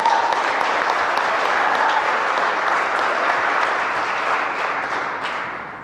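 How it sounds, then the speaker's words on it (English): A crowd claps for a participant at the 2018 Marion County Youth Business Plan Competition. The applause is dense and sustained, stays steady, then thins out and fades near the end. "another round of applause for Lane."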